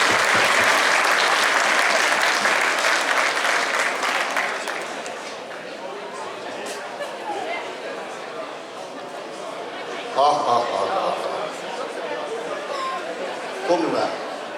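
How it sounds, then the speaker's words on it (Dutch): Audience at a carnival revue bursts into loud, dense applause that gradually thins into scattered clapping and crowd chatter, with brief cheers and a voice speaking over the room. "Geer een hartelijk applaus voor de pap en de man van Daan"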